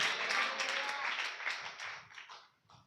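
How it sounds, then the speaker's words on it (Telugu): A church congregation at a Sunday worship service claps loudly in dense, sustained applause that fades into a few scattered claps. "చప్పట్లు కొట్టండి గట్టిగా"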